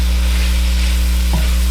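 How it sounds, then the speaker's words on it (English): Peppers and onions sautéing in a pan over medium-high heat, a steady close sizzle with a brief stir scrape near the end, no talking. "You want to saute these vegetables, these peppers and onions"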